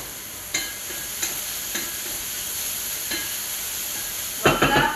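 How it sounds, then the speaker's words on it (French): Vegetables for a vegetarian bolognese fry in a pan with a steady, bright sizzle, punctuated by a few sharp scrapes and clatters from stirring, close up and with no talking. "On les cuit pas à fond vos légumes, parce que après, quand ils vont être dans la sauce, ça va devenir de la bouillie."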